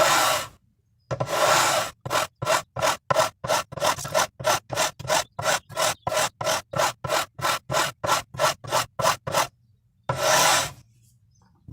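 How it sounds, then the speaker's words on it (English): Abrasive on a sanding block rubs across guitar frets to level them, about two dozen steady, evenly spaced back-and-forth strokes, loud and close, with no talking. "I have pretty much sanded off all the Sharpie there"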